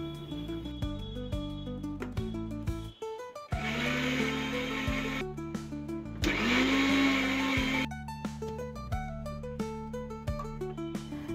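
An electric mixer grinder blends grated coconut with a little water into a fine paste, whirring in two loud sustained bursts, while background music with plucked notes plays throughout.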